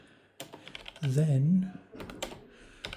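Quick, soft key clicks on a Zerowriter keyboard, scattered taps at moderate distance mixed with someone speaking over them.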